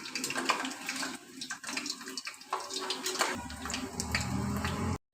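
Water spattering into hot tempering oil for kadhi, a loud, continuous crackling sizzle close by that settles into a steadier fizz before cutting off abruptly.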